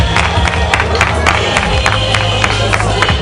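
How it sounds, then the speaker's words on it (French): Wedding guests cheer and applaud after the cake cutting, a dense, loud crowd roar with scattered claps and shouts that holds steady throughout. "On l'applaudit s'il vous plaît"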